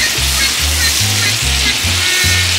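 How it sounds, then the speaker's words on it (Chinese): Chili peppers and pork stir-fried over high heat in a wok, a loud continuous sizzle close up, with rhythmic low scraping tosses repeating roughly every half second throughout. "大火倒入辣椒， 迅速翻炒"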